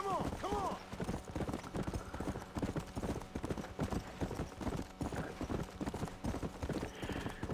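A horse in the Red Dead video game trots with a steady, rapid clip-clop of hooves, a brief whinny at the start, and a voice talking over the game sounds.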